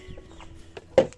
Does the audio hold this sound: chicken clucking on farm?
yes